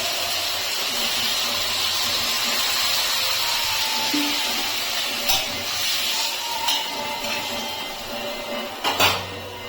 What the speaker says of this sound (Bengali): এখন আমি এর ভিতরে জল দিয়ে দিচ্ছি।